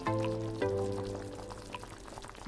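Water and cooked tapioca pearls pour into a container in a home kitchen, a soft, close, steady splash and trickle that tapers off over a couple of seconds.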